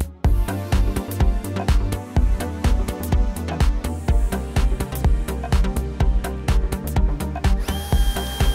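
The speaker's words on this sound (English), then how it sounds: "Tighten the screws." A power drill drives screws on the metal cover of a 3/4 HP 56-frame 220-volt boat lift motor. It whirs loudly and up close in a quick series of short, stuttering bursts, with no talk.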